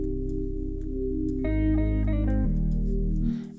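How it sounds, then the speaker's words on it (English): An Afrobeat drum loop from the UJAM Kaya plugin in C minor, with reverb added, plays alone: deep sustained bass tones and ringing tuned hits that shift pitch partway through, with a washy, lingering tail. "We add some reverb."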